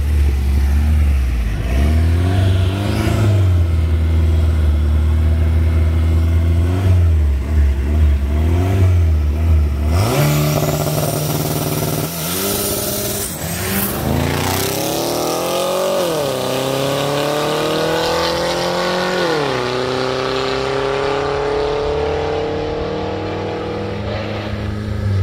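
A turbocharged Volkswagen Gol and a Chevrolet Camaro rev hard at a street drag race, engines roaring continuously, with a sharp surge midway as they launch and the pitch climbing through repeated upshifts, loud and close.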